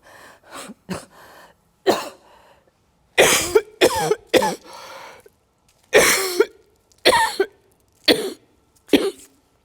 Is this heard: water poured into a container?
no